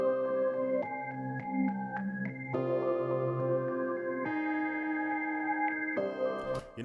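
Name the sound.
beat melodies looped with half-time effect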